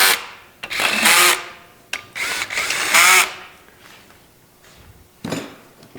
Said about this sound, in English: I've got my electric gun here set on 1. We'll get these going.